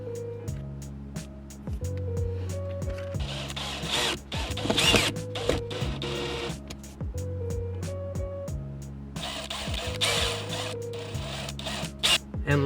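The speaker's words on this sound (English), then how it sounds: "And next we can just screw in these bolts here." Bolts are screwed into an LED interior light fixture in a 2015-2020 sixth-generation Ford Mustang, likely with a power driver, giving repeated whirring bursts and clicking mechanical noises close up, with no talk.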